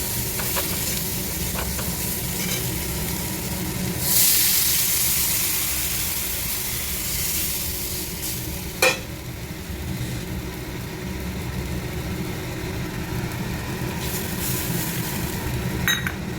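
Broth poured into a pan of fried spices with fried fish and egg sizzles steadily and loudly, with a surge of hissing partway through and a few clinks of a utensil.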